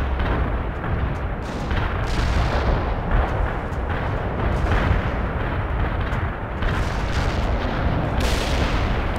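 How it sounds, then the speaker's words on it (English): Heavy artillery barrage in the video game World in Conflict: a dense, continuous roar of overlapping explosions and booms, loud and sustained throughout with no pauses. "Heavy artillery barrage inbound."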